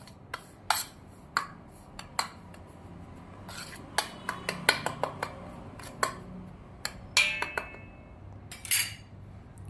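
Metal spoon clinking and scraping against a bowl while coarsely pounded spices are stirred into raw mango for sweet pickle, a series of sharp, close, intermittent clinks over a quiet background.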